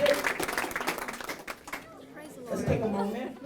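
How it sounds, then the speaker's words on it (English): A school audience at a Black History Month presentation claps for an honored man, the scattered clapping fading out midway, followed by murmured chatter and voices from the crowd. "Let's give a round of applause to this wonderful man."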